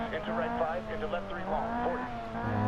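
Abarth 131 rally car in Sébastien Loeb Rally Evo on a Monte Carlo stage, its engine giving a steady, droning note underneath someone talking throughout.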